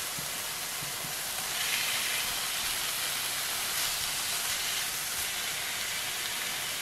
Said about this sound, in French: Je vais ensuite donc ajouter mon saumon.